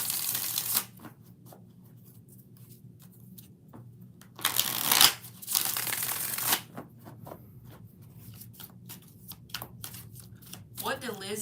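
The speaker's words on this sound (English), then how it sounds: "2 more shuffles." Tarot cards shuffled in repeated riffling bursts, with a longer burst in the middle and several short flicks toward the end, close and moderately loud, while a person talks softly underneath.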